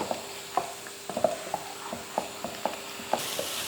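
Four eggs mixed with masala and salt frying in a pan, with a steady sizzle broken by regular scraping stirs of a spoon against the pan, close and moderately loud.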